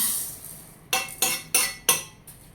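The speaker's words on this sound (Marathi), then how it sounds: "ते मी ह्या बाउलमध्ये काढून घेत आहे." Roasted fenugreek seeds are poured from a pan into a bowl with a series of four sharp metallic clinks and scrapes, each followed by a short rattle, close and clear with no talking.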